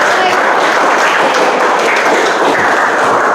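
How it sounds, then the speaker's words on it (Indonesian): Applause from students in a classroom during an Islamic religious education lesson, a dense, steady burst of many hands clapping close by, filling the whole few seconds at high loudness. "Berikan tepuk tangan untuk"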